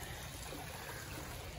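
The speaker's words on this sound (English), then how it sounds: "And this is what the waterfall looks like." An outdoor waterfall flowing at a vacation spot, a steady rushing wash of water that holds constant and moderately loud throughout, with no talking.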